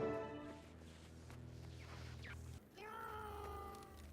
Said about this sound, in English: Oh, it meowed.